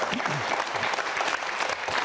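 A studio audience at a Bulgarian TV talk show claps steadily throughout, a dense, even wash of applause with a few voices faintly underneath.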